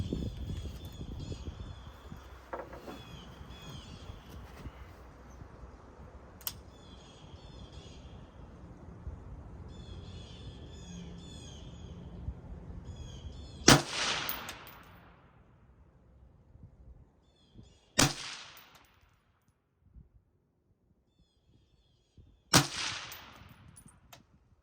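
Three suppressed rifle shots at an outdoor range, sharp muffled cracks spaced several seconds apart, each followed by a brief echo, with quiet background between them.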